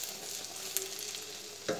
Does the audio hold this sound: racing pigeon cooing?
no